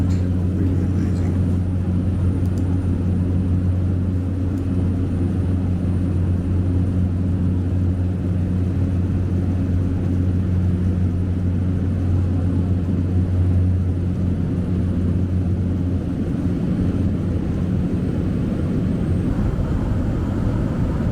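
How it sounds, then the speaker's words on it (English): Seaplane flying low toward Nanaimo harbour to land, its steady loud engine drone and propeller hum continuous throughout, with a constant deep rumble and no talk in the foreground. "We are coming in for the landing"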